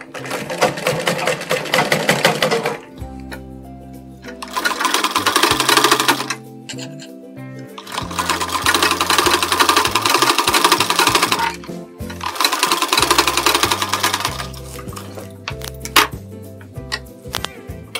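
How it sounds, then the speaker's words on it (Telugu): Sewing machine stitching blouse fabric in loud rapid bursts of mechanical clatter, several runs of a few seconds each separated by short pauses, with knocks and handling sounds between the runs. "ఇలాగా దీని మీద ఒక చివరన ఒక స్టిచ్ వేసుకోవాలి."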